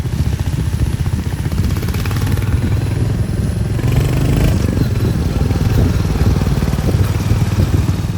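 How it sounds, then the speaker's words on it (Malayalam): A Royal Enfield Hunter 350 motorcycle runs with its engine and exhaust close by, giving a loud, steady, rapid thumping pulse that holds through the whole stretch. "സ്ഥിരമായിട്ട് ഉപയോഗിക്കുന്നവർ ഇപ്പോൾ എക്സോസ് സൗണ്ടൊക്കെ ഒന്ന് കേട്ടിട്ടൊന്ന് പറയുക."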